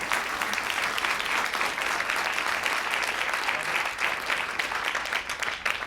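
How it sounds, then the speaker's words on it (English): A room full of people applauds the speakers at a NASA asteroid challenge announcement event, dense continuous clapping at moderate loudness that stays level throughout without talk over it. "let's go ahead and give a round of applause not only to Jason"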